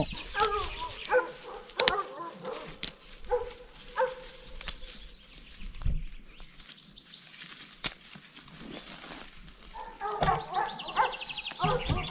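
Five dogs in the Thai countryside bark in scattered bursts, one starting as another stops, some barks near and sharp and others fainter, with quieter stretches in between.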